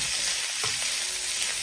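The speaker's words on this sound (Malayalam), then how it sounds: "കുറച്ച് ക്യാബേജ് കട്ട് ചെയ്തും കൂടി ഇട്ട് കൊടുക്കാം. ഒന്ന് ഇളക്കി കൊടുക്കാം." Chopped cabbage and green chillies sizzle steadily in a hot pan, a loud close hiss of frying with a brief scrape of stirring partway through, no voices.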